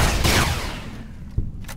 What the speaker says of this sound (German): Wie in so einer roten Nova explodiert das Vieh.